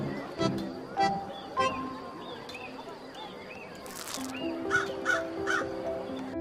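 A cartoon crow caws several times in sharp, nasal bursts, some spaced apart and some in quick succession, over a steady animated soundtrack with tonal background notes.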